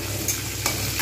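Onions fry in a pan being browned for a long bean and potato curry, giving a steady loud sizzle with a couple of brief stirring scrapes and no voices.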